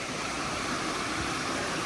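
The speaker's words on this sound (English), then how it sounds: "Looks like we're coming up to a stream." A flowing stream at Bear Creek Preserve gives a steady, even rush of water, continuous and moderately loud, with no voices over it.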